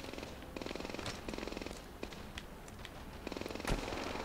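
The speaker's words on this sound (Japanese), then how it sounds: "銃声は聞こえるけど姿が見えないね。" Distant gunfire in the video game Medal of Honor Airborne, rapid crackling bursts of automatic fire repeating through a battle soundscape, with a few sharper single shots standing out.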